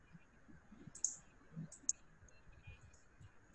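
A few sharp, faint computer mouse clicks in a quiet room, spaced irregularly, with soft background noise and low murmurs around them.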